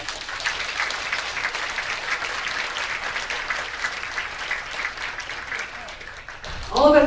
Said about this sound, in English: And let's give him another round of applause.